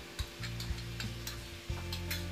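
Mutton frying with poppy seed and mustard paste being stirred in a pan over a gas flame, a soft sizzle with quiet scraping strokes of the spoon at a steady rhythm, close and fairly faint.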